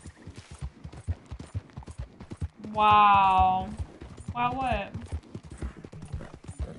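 Horse hooves clip-clop steadily in Red Dead Redemption 2, a rapid rhythmic patter running throughout, joined by a loud horse whinny and a second shorter neigh midway, with a voice exclaiming briefly over it.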